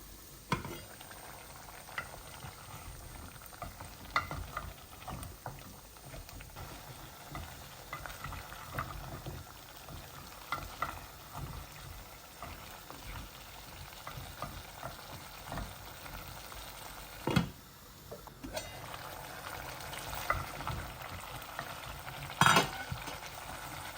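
Garlic, onion and bottle gourd peel frying in a pan for a Bengali chutney, a low continuous sizzle with occasional stirring scrapes and clinks, faint and steady throughout with no talk.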